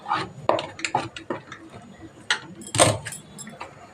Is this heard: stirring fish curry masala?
yes